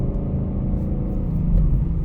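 A Camaro Z28 idles with a deep, steady low rumble, the engine close by and holding an even drone throughout, with a slight swell near the end and no voices over it.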